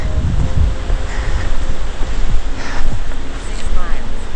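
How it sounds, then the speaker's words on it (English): A stream of rushing water flows under a small, rickety bridge on a trail, a steady close hiss and rumble broken by gusts of wind buffeting the microphone. "Don't you love the sound of rushing water?"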